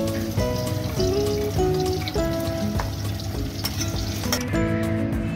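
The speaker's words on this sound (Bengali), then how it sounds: "সুন্দর করে ভেজে নিয়েছি" Ingredients for mixed egg and chicken fried rice sizzle and fry in oil in a pan, with steady crackling and repeated scraping and stirring strokes, close up and without talk.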